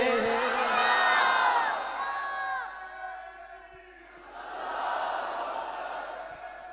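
Large crowd at a religious Seerat-un-Nabi conference chanting slogans in unison, loud massed voices rising and falling in two surges with a dip between.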